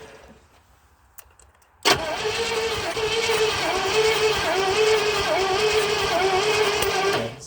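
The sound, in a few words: 1970 Oldsmobile Toronado 455 engine starting and running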